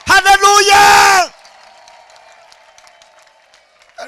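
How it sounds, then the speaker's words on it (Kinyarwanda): A church congregation bursts into loud clapping and high trilling ululation with voices for about a second, then the noise cuts off and only faint room sound remains. "Umva mumera Yesu amashyi muvuza n'impundu mushyiramo na haleluya"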